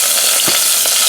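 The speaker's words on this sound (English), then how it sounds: "and fry it and stir it for 30 seconds" Garlic fries in a pan for deep dish pizza sauce, sizzling loudly and close with a brief scrape of stirring in the middle.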